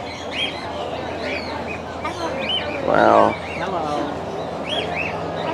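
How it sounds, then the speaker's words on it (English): A salmon-crested cockatoo calls at a zoo with one loud, harsh squawk partway through, over soft chirps from other birds. People talk nearby. "Got a salmon-crested cockatoo."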